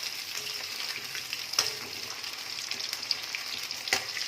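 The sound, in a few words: chicken pieces frying in oil, being flipped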